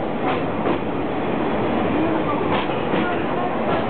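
Rumbling rattle of the Sagano sightseeing trolley train rolling along the tracks toward Arashiyama Station, with faint clicks and a muffled Japanese announcement voice under the noise.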